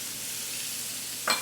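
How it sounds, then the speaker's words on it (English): Onions hitting hot oil with spices while cooking shrimp moilee, a steady broad hiss of frying with a brief sharper crackle near the end, close and fairly loud. "Sizzle."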